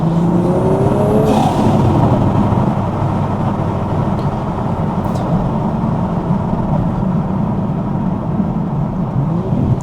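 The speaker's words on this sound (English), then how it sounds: "you can actually hear how bassy the exhaust is compared to the stock one" A Toyota GR Supra fitted with a titanium exhaust and ARMASPEED intake drives at night, its deep, bassy exhaust drone steady and loud throughout with continuous road noise.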